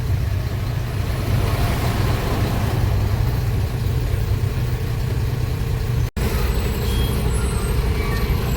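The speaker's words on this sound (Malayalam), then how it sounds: "വലിയ വണ്ടികൾ കുറേ ഉണ്ട്. ട്രെയിലർ," Heavy trucks, trailers and container lorries sit in a long traffic jam near Tenkasi, their engines idling in a steady, dense rumble that holds throughout with one brief dropout.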